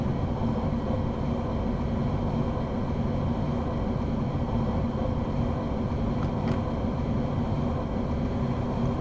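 An ICE high-speed train passes in Train Sim World 2, a steady loud low rumble and roar of rolling wheels and motors that holds without a break.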